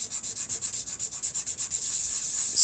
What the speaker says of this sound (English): on a flat piece of glass with sandpaper